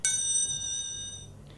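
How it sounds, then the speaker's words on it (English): Bus conductor's bell giving a single bright ding that rings out and slowly fades, close and clear over a quiet background. "When the bus has to start or stop, he rings the bell."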